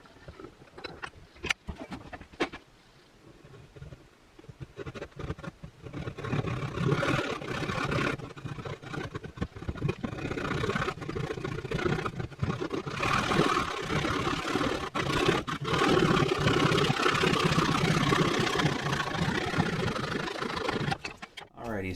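Bandsaw with a slightly dull blade cutting a wooden wedge for an axe handle, a steady droning rasp that rises after a few seconds of quieter handling and runs continuously near and loud.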